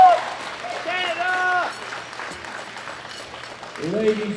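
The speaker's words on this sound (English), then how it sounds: "a big round of applause for Jessica Bittner." A crowd applauds the gold medal winner at a world classic powerlifting championship, giving a continuous patter of clapping under an announcer's amplified voice that echoes through the arena.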